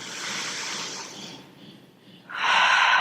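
Deep breath during a hatha yoga practice, a long, close airy inhale with a short lull and then a stronger exhale, no talking.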